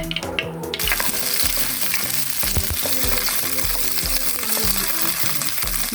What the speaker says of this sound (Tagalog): Madali lang po yung pag-stir fry sa green beans